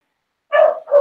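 A dog gives two sharp, loud barks close by, a short yip followed quickly by a second bark after a moment of silence.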